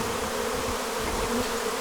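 Thousands of honeybees from a rehomed swarm buzz around their hive in a dense, steady drone, close and continuous with no voices.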